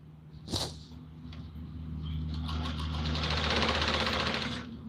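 A sewing machine stitches pleats on a Patiala salwar, starting after a brief click and running as a steady, continuous whirring hum that builds and holds close up.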